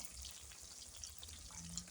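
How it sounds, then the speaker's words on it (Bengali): Rohu fish frying in oil in a pan, a quiet, steady crackle and hiss throughout, faint and close, with no voices. "এই যে মাছটা ভেজে নিতেছি সুন্দর করে, রৌ মাছ।"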